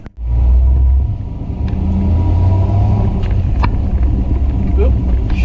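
1963 Chevy Bel Air rumbling as it pulls away and shifts gears, a loud, close low engine drone that settles after the initial surge, with a voice over it.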